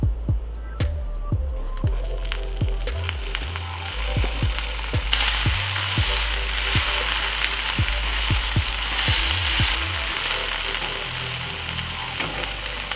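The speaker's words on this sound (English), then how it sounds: "Add just a teaspoon of olive oil and vegetables to saute" Sweet onions and red and green peppers sauté in a teaspoon of olive oil, giving a continuous close sizzle punctuated by sharp clacks of a utensil stirring the pan, with no talking.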